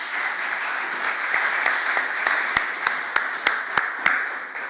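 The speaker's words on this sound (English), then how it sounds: "A very big round of applause to all our partners and stakeholders." Audience applause at a conference presentation, a steady bed of many people clapping overlaid with a series of loud, evenly spaced claps from close by.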